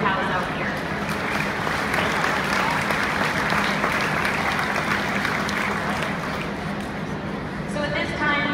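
Sustained round of applause from a crowd at the Iowa State Fair dairy cow show, steady and dense for the full length, with a voice murmuring faintly beneath it.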